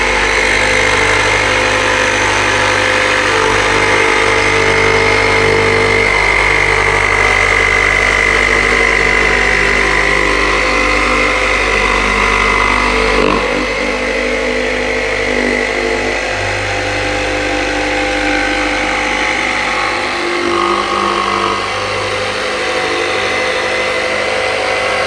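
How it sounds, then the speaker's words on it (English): Power jigsaw making a curved cut through material, a loud, continuous buzzing motor whine close by with a steady rasping blade, easing slightly in pitch about halfway through and running on without talk. "you want to start the jigsaw away from the material, let it come to speed, and then cut through."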